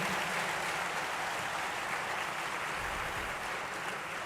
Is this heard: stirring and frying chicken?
no